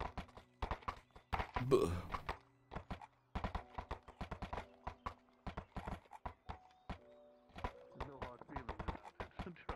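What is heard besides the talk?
horses' hooves clip-clopping while walking uphill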